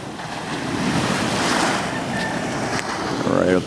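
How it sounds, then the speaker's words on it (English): Gentle ocean waves wash onto a beach close by in a steady, continuous surf, with wind buffeting the microphone and no talking. "It's the sound of these waves, gentle waves crashing."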